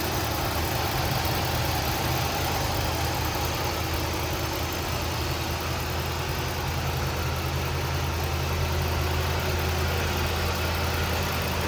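A 1979 Cadillac Seville sedan engine idling, a smooth steady low hum and rumble that stays even and continuous from start to finish, heard close up with no talking.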